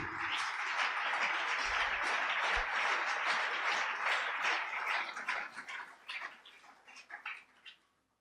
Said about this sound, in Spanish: Dele aplausos al Rey.